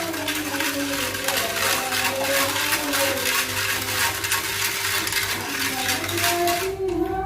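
A jelly mixture with sugar being stirred in a pot, a steady loud scraping and swishing with a fast repeating rhythm and a faint ringing tone underneath, stopping abruptly at the end.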